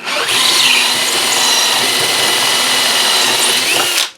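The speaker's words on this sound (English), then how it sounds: "And then we'll take our uni bit, a step bit, and drill it out." A loud power drill with a step bit runs continuously for about four seconds, a steady high whine cutting a 1/2-inch hole through material, then stops abruptly.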